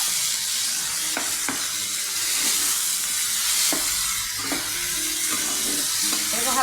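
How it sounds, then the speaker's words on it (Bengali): Tomato with garlic and onion paste, chili powder and turmeric sautéing in a pan, a loud continuous sizzle with occasional spatula scrapes and knocks, close up and without talk. "এটাকে ভালো করে কষিয়ে নিই।"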